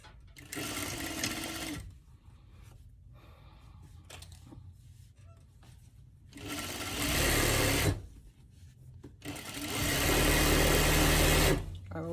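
A sewing machine stitches a garment sleeve in loud, close, rapid bursts of whirring, three runs separated by pauses of quieter handling.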